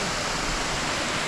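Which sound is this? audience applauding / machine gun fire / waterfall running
waterfall running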